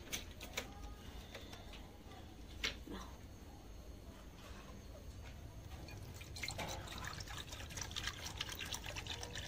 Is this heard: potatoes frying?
no